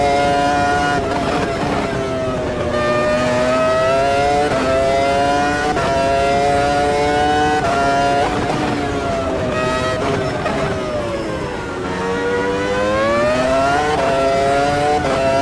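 Race car engines in the Automobilista 2 racing game roar loudly and continuously, rising and falling in pitch through repeated gear shifts as the car accelerates around a track.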